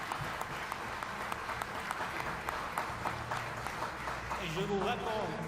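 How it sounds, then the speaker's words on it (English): Applause from a large assembly at a football confederation general assembly, a steady clapping wash heard faintly and at a distance, with a voice over it near the end. "Can we give a round of applause for him?"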